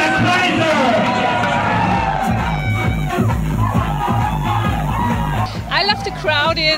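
A lively crowd at a DJ show in Sri Lanka yells and cheers continuously and loudly over pounding club music, with an MC hyping them up.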